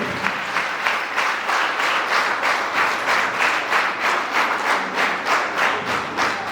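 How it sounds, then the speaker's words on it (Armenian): A concert audience applauds warmly at a solo concert, with loud, sustained crowd clapping that settles into a steady, almost rhythmic pulse and lasts throughout. "Շատ լավ, ջերմ ծափահարում եք։"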